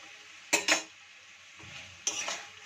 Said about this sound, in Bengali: আলুগুলো আমি দিয়ে দিচ্ছি। আলুগুলো আমি ফ্রাই করে রেখেছিলাম।